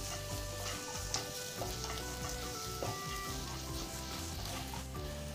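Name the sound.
garlic and ginger sizzling as they are sautéed in oil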